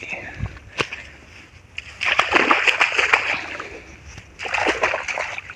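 Footsteps splash and slosh through pooled rainwater puddles outdoors in hot weather, bursts of watery splatter coming in two louder stretches, close by, with no clear speech.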